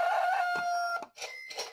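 A rooster crow from a slot machine game, a bright electronic cock-a-doodle-doo with a sustained tone followed by short clucking bursts, close and alone.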